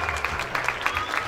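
Audience applause at an outdoor stage show of music and song, a short burst of steady clapping from a crowd, fairly loud and close.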